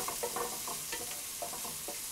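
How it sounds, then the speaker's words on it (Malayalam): Onion sautés with curry leaves and salt in a pan, a quiet steady sizzle under a few soft scraping stirs, close and brief, with no talk. "ബാക്കിയുള്ള 2 തണ്ട് കറിവേപ്പില, ആവശ്യത്തിന് ഉപ്പ് എന്നിവയിട്ട് വഴറ്റുക."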